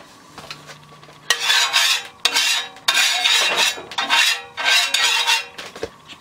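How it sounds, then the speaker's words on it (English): Metal utensil scraping and clinking against a cast iron pan in repeated bursts while eggs fry, with a faint sizzle underneath between the louder strokes. "So here I am now frying up a couple of eggs"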